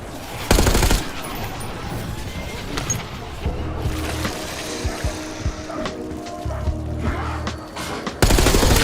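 War Machine grenade launcher firing in Call of Duty Warzone, a loud burst of rapid booming shots and crashing impacts, continuous with dense layered game sound effects and brief bursts at start and end.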